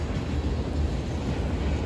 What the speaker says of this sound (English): the westbound train is coming